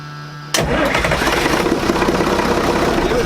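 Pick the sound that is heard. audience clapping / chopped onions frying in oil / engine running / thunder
engine running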